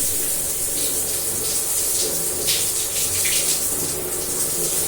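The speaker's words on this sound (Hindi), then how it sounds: "अभी खोली ही थी मैं शावर" A bathroom shower runs in a steady, loud, continuous gush of water, with a faint low hum beneath and no voices.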